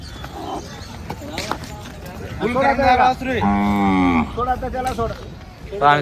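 A calf at a cattle market in Chalisgaon lets out several drawn-out moos, loud and close, with a low rumble of movement between calls.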